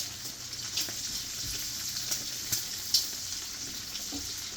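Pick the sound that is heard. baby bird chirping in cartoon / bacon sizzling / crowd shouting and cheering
bacon sizzling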